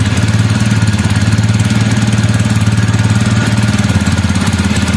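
A TVS Apache BS6 motorcycle engine idles steadily after a self-start, with a close, loud, even low putter and no voices.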